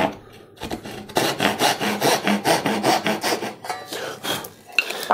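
A hand saw cuts the cheek off a wooden tenon on a side table stretcher, making close, rhythmic back-and-forth rasping strokes, about a dozen in quick succession, with no talking.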